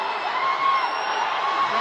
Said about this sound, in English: Crowd is roaring.